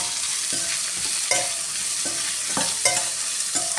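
Two large chopped onions frying with salt in a pan for a chicken and potato roast give a loud, steady sizzle, broken every second or so by brief scraping stirs, with no voices.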